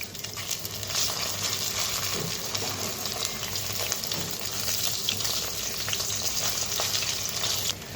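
Jute leaf fritters (pat patar bora) fry in oil with a loud, steady, close sizzle that runs unbroken throughout, with occasional stirring and faint bubbling.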